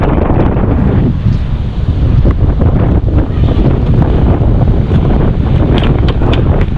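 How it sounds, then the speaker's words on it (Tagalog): Strong wind from a habagat monsoon storm roars continuously, buffeting the microphone with a loud, rumbling rush and gusty fluctuations, with no speech over it. "Tapos may kasama hangin."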